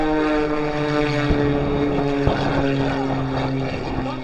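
A propeller airplane working on the main runway at the Fort Wayne Air Show, with a loud steady engine drone and propeller hum running throughout, plus a few brief thumps.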